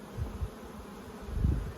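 Honey bees buzz around an apiary, a low droning hum that swells in short bursts as insects fly near and away, alone without voices.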